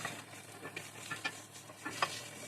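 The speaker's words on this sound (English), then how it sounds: "we're going to bump it up to about a 7, which is in between the 8 and the 6, while we caramelize these onions" Onions caramelizing in a skillet over medium-high heat, stirred and moved around constantly: a soft, steady sizzle with scattered scraping and clinking strokes of the utensil, fairly quiet and close, with no talking.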